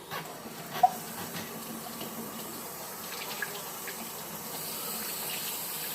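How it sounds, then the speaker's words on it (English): Hands are washed under a running kitchen tap, giving a faint, steady hiss of flowing water with a couple of small clinks, heard alone and somewhat distant. "you always want to wash your hands afterwards"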